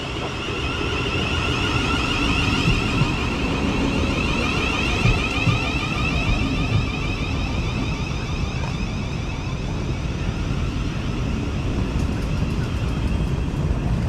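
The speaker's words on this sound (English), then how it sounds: "arriving now is going to be 700 109. It's going to form our Thameslink service now, taking us to Crawley" Thameslink Class 700 electric train, unit 700 109, pulls into Ifield station in West Sussex: a steady, loud rumble with a rising whine runs throughout, close by and continuous.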